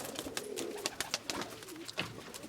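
Pigeons held close by, soft repeated cooing with rapid fluttering and rustling, quiet and near with no talk.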